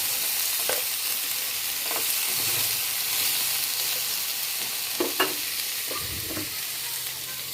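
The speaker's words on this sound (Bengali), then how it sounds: "এই যে এখানে আমি যে পটলটা ভাজি করতেছি" Pieces of pointed gourd (potol) frying in a pan give a steady, close sizzle with a hissing wash throughout, broken by a few short scrapes and knocks as they are turned.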